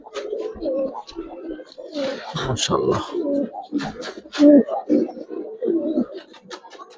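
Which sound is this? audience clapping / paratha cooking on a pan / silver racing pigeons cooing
silver racing pigeons cooing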